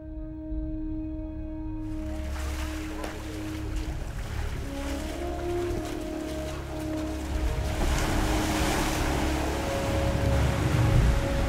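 Surf washing onto a Pacific beach lined with coconut palms, a steady broad rush of waves with wind. Low engine-like hum and tonal droning sit underneath, and the roar builds slightly toward the end.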